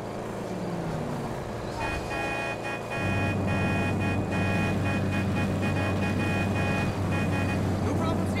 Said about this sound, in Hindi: रे फ्रैंकलिन की कार आ रही है